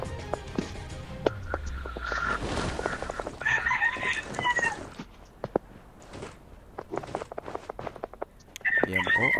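Video game chickens cluck and a rooster crows amid scattered clicks and footsteps, with a person talking over them throughout.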